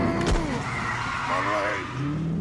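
A stolen car in GTA Online skids away with a loud tire squeal and revving engine, accompanied by a sharp bang early on, while people talk over it.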